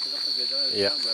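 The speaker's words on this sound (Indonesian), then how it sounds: "ini suara jangkrik" A constant high, shrill cricket chirring runs throughout, while people talk briefly underneath it.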